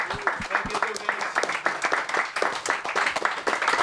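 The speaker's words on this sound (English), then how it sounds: "So a round of applause for them as well" An audience at a panel discussion on MC culture claps in a quick scatter of sharp hand claps, with people talking over the applause throughout.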